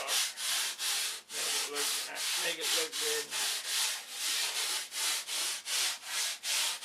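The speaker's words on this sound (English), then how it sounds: "Now we're sanding away our pen lines because we got it straight." Steady back-and-forth hand sanding rounds off the end of a wooden edge, rhythmic rubbing strokes close up, with one brief spoken remark partway through.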